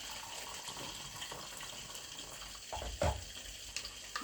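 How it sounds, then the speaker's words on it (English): Hot water poured from a kettle or jug into a pot of yellow rice cooking with coconut powder, a short splashing gush rising near the end over a steady low kitchen hiss. "Go in with a bit more hot water."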